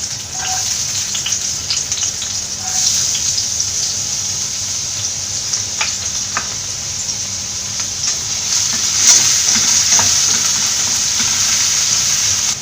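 Ginger and garlic sautéing in hot coconut oil for Kerala mutton curry, a steady bright hiss of frying that swells a little louder toward the end, with occasional faint stirring ticks.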